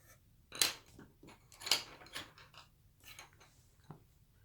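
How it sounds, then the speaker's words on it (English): Colored pencils scratching across a drawing, adding small touches of color, heard as a few soft strokes and taps close by with quiet pauses between them. "I'm going to kind of try and add a few little colors for emphasis with a few colored pencils"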